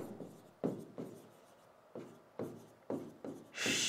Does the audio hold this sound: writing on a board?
yes